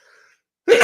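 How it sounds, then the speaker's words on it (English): A single loud, close sneeze bursts out after a near-silent pause, sharp and breathy, from a man during an accordion livestream. "I'm gonna sneeze."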